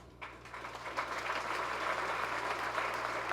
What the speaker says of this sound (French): vous demanderai-je de les applaudir chaleureusement